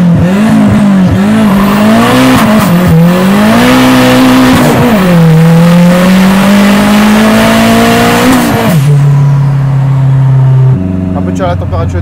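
A tuned Citroën Saxo VTS turbo revs hard with its exhaust valves open, the engine climbing and falling through several loud, close pulls before settling to a lower drone with some squeal.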